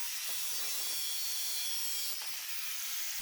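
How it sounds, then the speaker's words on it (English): A metal swingarm from a Kawasaki KX65 is being sanded smooth, giving a steady, loud, hissy abrasive scrub that keeps going without a break. "Then I came back and I sanded it up nice and smooth."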